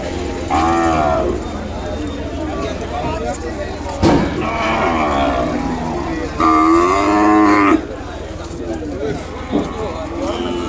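Several drawn-out moos from a calf close by at a cattle market, one long call after another, amid outdoor noise and people talking.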